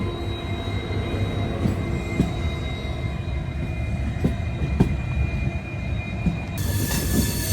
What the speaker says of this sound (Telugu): Shunting locomotive.